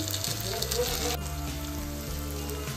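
Steady sizzling and crackling of chopped tomatoes frying in a pan, a continuous close hiss with a faint low hum underneath, no talking.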